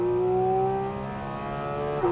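A Porsche 911 GT4 RS engine holds a steady high-revving howl near its 9,000 RPM redline, loud and close, with a brief shift in pitch at the end.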